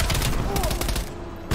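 Dense automatic gunfire in Call of Duty Black Ops Cold War rattles loudly in a rapid continuous burst, then cuts off abruptly near the end, with a single final shot.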